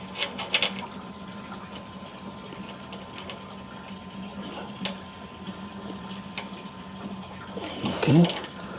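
A spray rig pump hums steadily at a low, even drone, close by and continuous, with a few clicks and a louder clunk near the end as the rig is switched on and checked.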